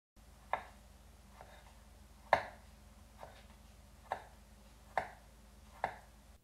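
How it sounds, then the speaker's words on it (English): A kitchen knife cuts thin slices of lime on a cutting board, giving six sharp, quiet taps spaced about a second apart against a near-silent background, with no talking. "next I'm going to cut some small slices of lime, very thin"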